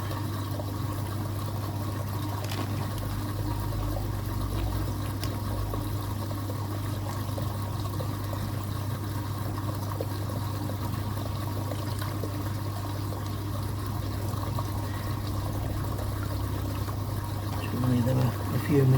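Steady, continuous rush of running water pouring into a basin, constant and close, with a low hum beneath it and a few faint bumps near the end.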